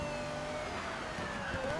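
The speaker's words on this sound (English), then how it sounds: "Turn off the sirens." A police car siren wails in the Need for Speed Rivals racing game, a steady tone sliding slowly in pitch over a constant engine and road rumble, moderately loud with no talk.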